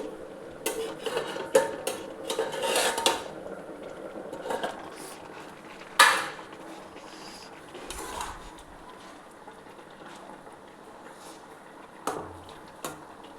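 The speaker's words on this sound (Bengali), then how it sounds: "দেখুন, একবার ঢাকাটা খুলে একবার দেখে নিচ্ছি।" A pot lid lifted off a pot of boiling potatoes and radish for a vegetable curry; scattered metallic clinks and scrapes with a sharp knock midway, quiet bubbling between, no voices.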